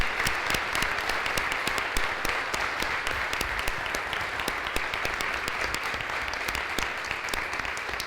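An audience claps continuously at a presentation, with brisk, even applause and a few sharp individual claps standing out, sustained for the whole stretch.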